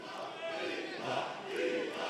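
A crowd at a combat-sports fight event roars and chants steadily, a dense wall of voices swelling in waves throughout.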